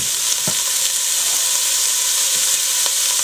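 Diced onions sizzle and fry in canola oil in a pan, a steady broadband hiss with occasional soft pops and stirring clatters, close and continuous, no voices.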